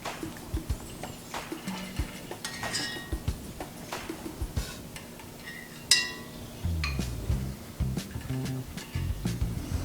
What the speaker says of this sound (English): Now we're gonna just take a spoon and scoop off some of this white stuff on top.